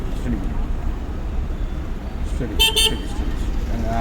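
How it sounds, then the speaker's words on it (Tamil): A car horn gives one short double toot amid steady road and engine noise, with talk nearby. "ஹார்ன் அடிக்கிறாரு."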